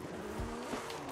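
Handbrake skid with tire squeal from a car in the Forza Horizon 5 racing game, a steady engine drone with a brief skid burst in the middle, loud and continuous.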